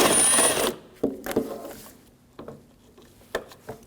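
A screw is backed out with a T30 socket on a 2007-2013 BMW 328i headlight bracket: a brief whirring burst of tool noise, then scattered close clicks and light metallic taps.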